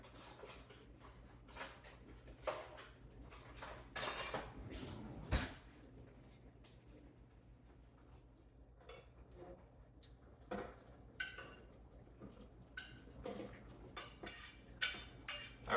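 A spoon scoops hot sauce ingredients, garlic among them, into a blender, making sparse metallic clinks and taps against the container spread across a quiet kitchen, with pauses between them.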